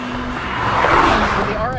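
A Mazda RX-8 with a rotary engine drives past with a rising and falling engine whine, near and fairly loud, and a voice talking faintly underneath.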